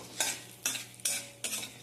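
A mustard tempering for cabbage curry fries in oil and is stirred in four quick, regular scrapes over a faint sizzle, close and quiet with no voices.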